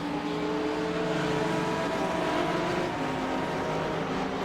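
A Ferrari GT3 race car at a Brands Hatch track day roars at full throttle, its engine a loud, steady, sustained drone with strong harmonics that fill the whole stretch without a break.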